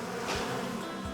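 Swarm of bees buzzing in a dense, steady drone that stays close and fills the whole moment, staged for a laptop-lifting myth test.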